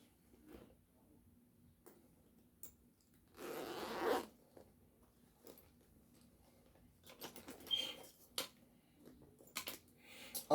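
A plastic bag opened and handled while prepping an EK D-RGB AIO cooler, heard as sparse crinkles and one longer rustling burst, then a cluster of quick crackles near the end, close and quiet with no talk.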